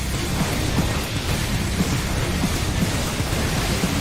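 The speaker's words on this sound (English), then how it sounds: "Watch for your thunder." A thunder attack in the Final Fantasy XIV raid Unending Coil of Bahamut gives a steady, dense crackling rumble like a storm, with small recurring bursts throughout and no talk.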